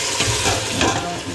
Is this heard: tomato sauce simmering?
yes